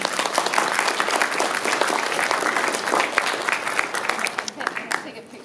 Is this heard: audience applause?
yes